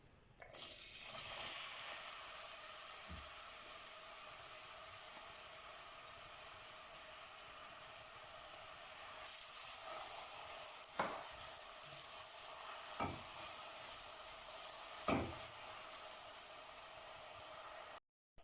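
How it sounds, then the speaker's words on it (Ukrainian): A steady, hissing sizzle of onions frying in a pan, continuing throughout with a few soft clicks and knocks of a utensil. "Спочатку нарізаємо дві цибулини невеличкими кубиками і тушимо до м'якості."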